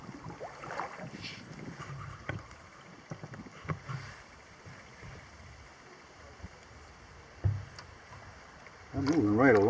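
A canoe is paddled across a windy lake in fall, with soft intermittent paddle splashes and drips under steady wind buffeting, ending in a louder burst of wind and motion near the microphone.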